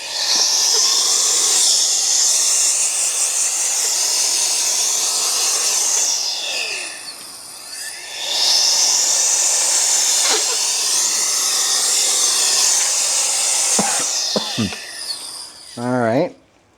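An air duster blasts dust off the rear door flare of an E46 M3 SMG Touring, a loud steady hiss in two long bursts with a brief pause between, ending with a short squeaky rub.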